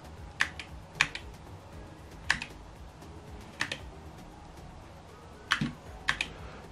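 A Logitech Pro X 60 wireless gaming keyboard being tapped out key by key, a handful of sharp, close clicks spaced irregularly over several seconds against quiet room noise.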